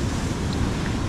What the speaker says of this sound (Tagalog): Malaking alon.